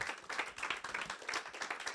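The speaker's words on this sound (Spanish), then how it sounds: "Un aplauso para el Señor." A church congregation claps in praise after a closing prayer, a dense, steady patter of many hands sustained throughout with no pause.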